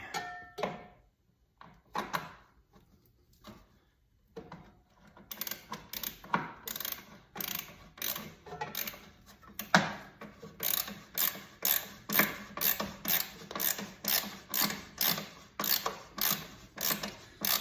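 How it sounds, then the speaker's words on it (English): A ratchet snugs the bolts on a 2024 Harley-Davidson lower fairing. It clicks nearby in quick bursts that start sparse and soft, then settle into a steady, rhythmic run of short ratcheting strokes. "I'm gonna just get these all snugged in, and then torque them down to the same specs"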